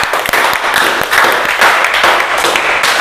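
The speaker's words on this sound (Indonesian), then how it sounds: "Beri tepuk tangan buat kelompok 2." A classroom group claps for presenters from group 2, with dense, steady applause from many hands filling the whole stretch at moderate loudness and no talk over it.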